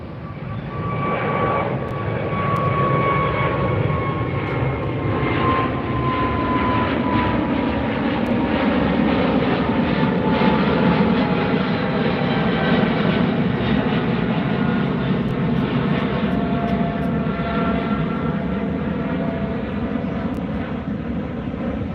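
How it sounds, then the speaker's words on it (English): A Turkish Airlines Boeing 777 takes off from LAX over the beach, its jet engines a loud, continuous roar with a high whine that slowly glides downward across the whole stretch. "Turkish Airlines 777 out over the Pacific."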